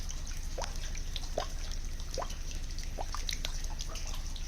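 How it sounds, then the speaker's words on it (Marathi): Rainwater falls from a rock overhang inside a cave near a temple, landing in a series of distinct, echoing drips about once a second over a quiet background. "पाणी वरतून गळत आहे बघा इकडे इकडे पाण्याचा आवाज पण डुबुक डुबुक येतो बघा"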